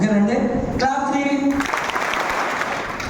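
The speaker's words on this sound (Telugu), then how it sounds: "క్లాప్ 3." Following a speaker's voice, a training-session audience claps all at once, a dense, loud burst of applause that fills the room for about a second and a half.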